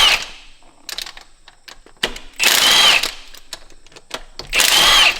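Power tool buzzing in two loud sustained bursts as 12mm bolts come off a turbo housing on a diesel truck, with short clicks and clatter between the runs in a shop.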